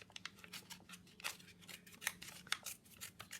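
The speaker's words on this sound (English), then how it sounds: "I'm going to just tear it a bit to give it a bit of a distressed look" Paper torn by hand along the edge of an art journal page to give it a distressed look, a series of short rough rips and crackles close up with no one talking.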